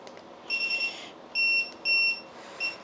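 High-pitched electronic beeps from a Deepseeker 35 drone, a quick stuttering run followed by several longer, louder tones and a final short chirp, with no talking.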